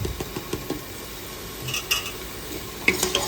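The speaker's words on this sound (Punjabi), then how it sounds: "ਤੜਕੇ ਨੂੰ ਹਿਲਾਵਾਂਗੇ ਕੜਛੀ ਦੇ ਨਾਲ" A ladle scrapes and stirs spiced tempering with turmeric, salt and chilli in a sizzling pan, with soft rhythmic clinks against the metal and a faint frying hiss underneath.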